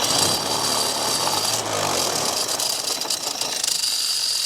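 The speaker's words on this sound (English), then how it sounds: "Now we are going to test and try to get our RPM engagement." Small go-kart engine running loud and steady with a rough rattling drone while a titanium three-disc clutch is tested for engagement RPM, close up and without talk.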